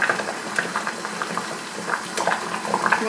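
Hot homemade apple juice poured carefully into a hot glass jar, a soft continuous liquid trickle and gurgle with a few small clinks, close and fairly quiet.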